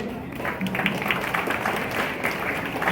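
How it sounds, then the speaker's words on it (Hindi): A crowd applauds the musicians of a band at an Independence Day event, steady dense clapping that holds at an even level throughout. "एक बार जोरदार तालियां हो जाए हमारे सारे म्यूजिशियंस के लिए"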